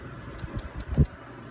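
Knife cutting firm cold butter into small chunks: a quick series of soft tapping thuds on a board, ending in one heavier knock, close and alone.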